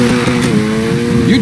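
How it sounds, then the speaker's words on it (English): Car drifting in the racing video game Need for Speed: Heat, with a steady engine drone and sustained tire squeal throughout, under an excited voice talking over it. "You're drifting!"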